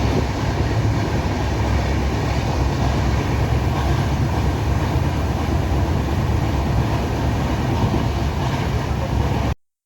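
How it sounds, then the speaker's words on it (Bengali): Superfast express train pulling out of Kharagpur station, heard from inside a coach as a loud, continuous rumble and rattle of wheels and carriage, steady throughout before cutting off. "খড়গপুর থেকে ছেড়ে বেরিয়ে যাচ্ছে।"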